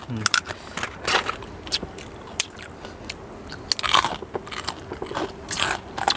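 Close, crisp crunching as someone chews a spicy Thai crab salad with crispy pork rinds, with irregular bursts of crackly bites and a faint murmur of voice at times.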